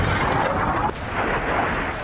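Missile strikes exploding in western Iran, heard as a continuous loud, rumbling roar with a sudden shift partway through, dense and distant-sounding without distinct separate blasts.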